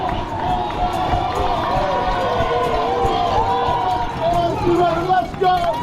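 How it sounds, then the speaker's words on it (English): Spectators shouting and cheering for runners passing through a small tunnel on the Rose Bowl Half Marathon course, with a steady babble of many voices echoing close around amid running footsteps. "having people you recognize and everyone cheering you on right as you go down a small little tunnel"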